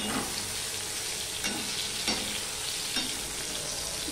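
Pointed gourd (potol) frying in a pan gives a steady, close sizzle throughout, broken by a few soft scraping stirs at regular intervals.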